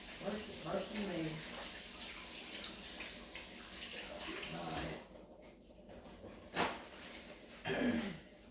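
Running tap water splashes over hands at a kitchen sink while making a homemade pound cake, a steady close rush for about five seconds, then brief bursts of splashing with quieter gaps.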